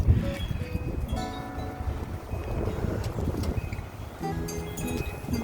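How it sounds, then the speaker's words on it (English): Icy wind blowing outdoors after a snowfall: a continuous rumbling rush that buffets the microphone, fairly steady and close, with a few faint tonal sounds in the background. "Very icy wind."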